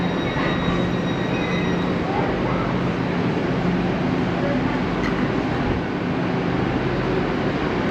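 A train rumbles steadily at Bath Spa railway station in England, a loud, constant low roar of rolling wagons with faint high squeals, heard up close under a speaking voice.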